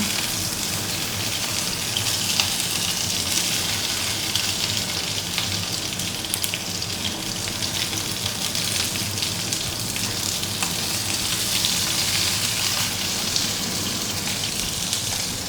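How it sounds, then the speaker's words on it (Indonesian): Tomatoes frying in a pan for sambal, a dense, steady sizzle and crackle of hot oil running continuously at close range with no voices. "aku juga sambil goreng tomatnya tadi tuh"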